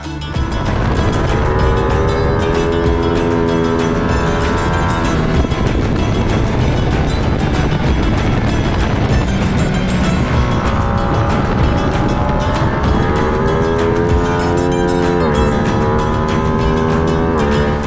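2020 Ducati Panigale V2 motorcycle being ridden, its engine revving up and down through gears with rising and falling pitch sweeps, loud and continuous under wind noise throughout.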